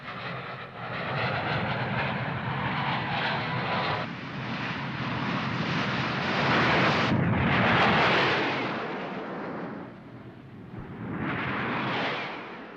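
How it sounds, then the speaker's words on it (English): Soviet military aircraft on a low-level practice mission for rocket and cannon fire give off a continuous broad roar that swells as they pass, dips, then rises again, loud and enveloping throughout. "2 aircraft are off on a practice mission to fire 57mm rockets and cannon against ground targets."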